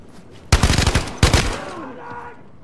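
AK-74 fire in the video game Zero Caliber 2: two loud, close bursts of rapid automatic shots, the second shorter, each followed by a fading echo.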